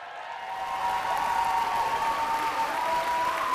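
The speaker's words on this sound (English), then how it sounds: "let's give them another round of applause" An audience in a hall applauding the school district's teachers of the year, a steady, full wash of clapping that swells quickly and holds evenly throughout.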